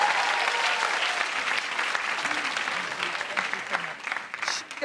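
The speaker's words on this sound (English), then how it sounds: "Please put your hands together for the incredible Sindhu Vee." A comedy club audience applauds to welcome a stand-up comedian to the stage. The applause is loud, sustained and full, and it tapers slightly near the end, with a faint voice underneath.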